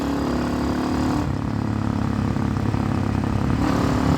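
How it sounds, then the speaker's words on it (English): Honda Hawk 250 motorcycle fitted with a swapped Loncin RE250 engine, a loud, close, continuous engine drone that pulls steadily under acceleration with a brief shift in tone early on. "Even if if I downshift and roll on the throttle, it just pulls harder."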